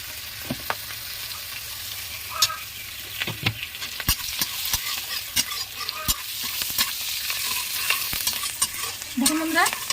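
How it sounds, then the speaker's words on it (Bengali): Steady crackling sizzle of chillies frying in hot oil, with sharp clicks and scrapes of a spoon stirring the pan throughout. "লঙ্কাটা ভাজা হয়ে গেছে"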